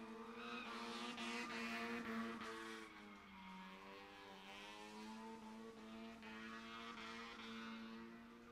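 Little old Mazda Miata drifting around a track, a loud, sustained engine howl whose pitch rises and falls as it holds the slide, with a hiss of tire noise and no talking.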